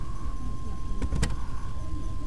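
Fuel pump priming in a 1993 Chevy Blazer gives a thin, steady whine that runs throughout, under a low rumble, with a couple of sharp clicks near the middle.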